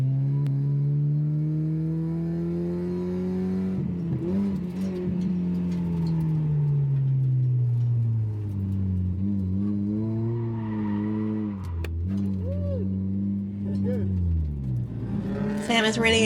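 A drift-built Mazda Miata held in first gear with clutch kicks, its engine droning and sweeping in pitch while tires squeal and skid, loud and continuous with brief revving bursts near the end.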